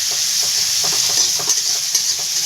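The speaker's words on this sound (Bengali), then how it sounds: "কাঁচা পেঁয়াজটাকে একটু ভেজে নিলাম" Raw onion fries in a hot pan with a bright, dense, continuous sizzle, close and loud, with small bursts of crackle and no talking.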